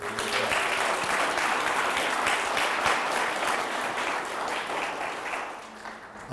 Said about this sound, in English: Can we have another round of applause for